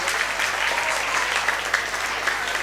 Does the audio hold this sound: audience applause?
yes